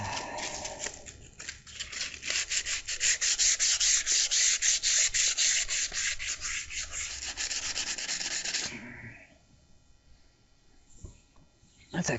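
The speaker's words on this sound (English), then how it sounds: "Just do a real quick sanding." Steady, rapid scraping strokes of hand sanding on a metal roll bar extension, loud and close for about nine seconds before stopping, followed by quieter handling and a brief voice.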